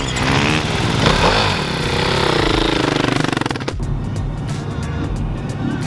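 A Lincoln sedan grinds over rough desert terrain, engine roaring and body rattling loudly up close, then the heavy noise drops away into a lighter rumble with scattered knocks.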